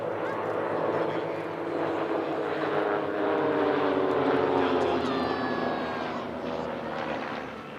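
Team Raven's propeller aerobatic aircraft fly a display at the Midlands Air Festival, a steady, loud, layered engine drone with shifting pitch, and a voice occasionally heard over it.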